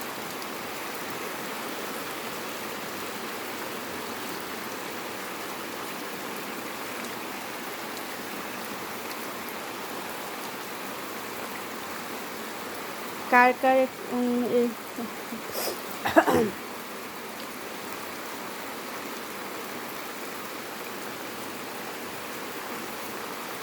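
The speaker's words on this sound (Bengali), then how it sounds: "বৃষ্টি হচ্ছে অনেক" Heavy, steady rain pours down in a continuous broadband hiss. A voice speaks briefly partway through, then the rain carries on alone.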